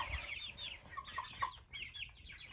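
Sapphire Gem hens and meat chickens cluck and chatter softly together in a pen, a faint, steady flock murmur with no voices.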